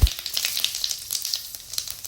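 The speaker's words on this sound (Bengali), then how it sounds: "একটা কড়াইতে পরিমাণ মতো তেল গরম করে তার মধ্যে দিয়ে দেব আস্ত জিরা ও কালো জিরা" Whole cumin and black cumin seeds sizzle in hot oil in a pan, a bright crackling hiss with rapid little pops, close and steady, with a brief knock at the start and no talk.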